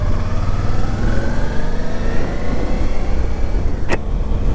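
A Suzuki V-Strom adventure-touring motorcycle engine braking while riding, a steady, loud engine drone with a slowly shifting pitch under heavy road and wind noise, no talk.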